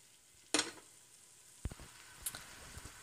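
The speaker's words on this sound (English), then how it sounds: "First we go ahead and melt the butter in a large pan." Butter melts in a large pan and gives off a soft, faint sizzle. A few sharp clicks and clatters of utensils sound close by.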